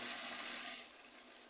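Ground tomato with paprika sizzles in a pan, a soft hissing wash that fades after the first second.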